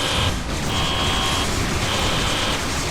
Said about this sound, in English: Hey, the alarm's working.